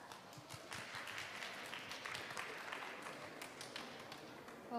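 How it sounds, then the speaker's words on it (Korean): An audience at a youth startup camp presentation claps to welcome a returning alumna speaker, with steady, fairly faint applause from a modest crowd continuing throughout. "여러분 큰 박수로 환영해 주시면 고맙겠습니다"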